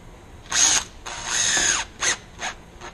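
A power drill driving a 1 3/4 inch screw into a bar stool frame, several short whirring bursts with one longer run, close and distinct with no talking.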